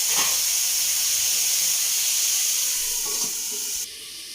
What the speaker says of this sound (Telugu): మూత పెట్టుకున్నాం. ఇప్పుడు కొద్దిగా మగ్గుతి.